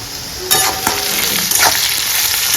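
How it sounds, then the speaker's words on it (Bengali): Onions frying in a pan for Bengali-style egg curry, a steady broadband sizzle with clinks and scrapes of stirring at intervals, close and fairly loud, no talking. "এই যে পেঁয়াজ ভাজা হয়ে গেছে,"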